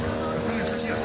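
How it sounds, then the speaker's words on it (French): A Russian attack drone flies over Ukraine with a loud, continuous, droning buzz of steady pitch, and a voice talks over it. "Ce vrombissement caractéristique d'un drone."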